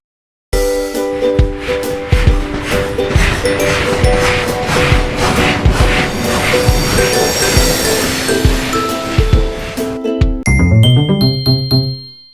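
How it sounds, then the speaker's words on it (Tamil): A train rumbles past loudly and steadily with clanking wheels and metallic squeals, then a bright level-crossing bell dings rapidly over it near the end; no voices are present. "தொடர்வண்டி தொடர்வண்டி"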